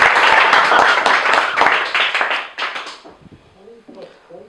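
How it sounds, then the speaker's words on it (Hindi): Village gathering where people clap to welcome the village head, a burst of brisk clapping that fades out after about three seconds, followed by a voice speaking. "सब लोग मुखिया जी को ताली से स्वागत करेंगे।"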